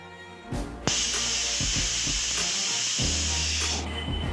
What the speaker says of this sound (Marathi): झाकण लावून तीन शिट्टा करून घेऊया कुकरच्या